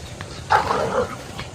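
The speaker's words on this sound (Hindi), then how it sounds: "ओ भाई कुत्ते लड़ रहे हैं आपस में" Dogs fight in a short, sharp flurry of barks and snarling yelps that peaks briefly and then trails off, heard at moderate distance over outdoor background noise.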